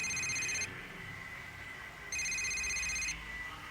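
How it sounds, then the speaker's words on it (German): A telephone rings in two electronic bursts separated by a pause, fairly clear and close in an otherwise quiet indoor scene. "Ihr Telefon."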